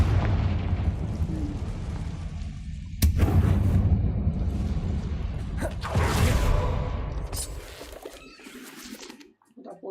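Fiery Confringo blast spell cast in Hogwarts Legacy, heard as loud booming explosive bursts, one sharp hit followed by rolling roars and crackling that fade out toward the end.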